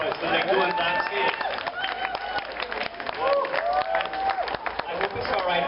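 Audience applause and cheering for extempo singers at a live show, clapping dense and steady throughout with voices mixed in and speech over the crowd.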